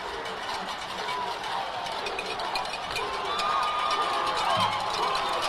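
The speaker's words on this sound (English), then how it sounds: "You can hear the crowd chanting Puna." A large crowd roars and chants steadily at a high school football game, a dense continuous wall of many voices with no single speaker standing out.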